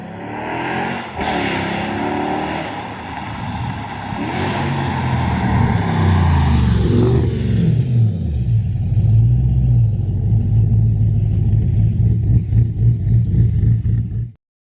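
A Holden Commodore VF2 Redline, tuned to 430 kW, revs hard and close by, its engine surging up through several throttle blips before settling into a deep, loud, burbling idle that cuts off abruptly.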